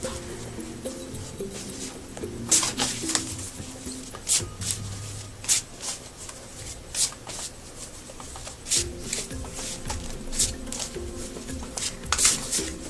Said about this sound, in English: we'll shuffle the cards now and see what card comes up